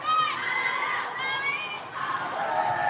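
Youth volleyball crowd cheering in a gym, with children's high chanted voices rising in repeated bursts, fairly close, mixed with general chatter.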